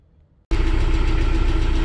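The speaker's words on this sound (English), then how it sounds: "Okay, so in the tractor, so it's a little loud" A tractor engine starts running abruptly after a brief near-silence, then holds a loud, steady idling drone heard from inside the cab of the heavy machinery, no talking.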